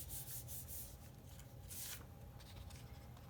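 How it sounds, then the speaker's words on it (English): A gessoed paper page is rubbed face down across a gel printing plate, making a soft, close, continuous scuffing with a few brighter swipes. "Take our page, gessoed side down, and rub it on the gel plate."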